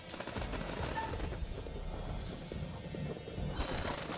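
Gunfire from the video game House of Ashes, a dense, rumbling barrage of crashes and rapid bursts in a chaotic battle scene, fairly quiet and continuous, with a few faint high beeps and no talk.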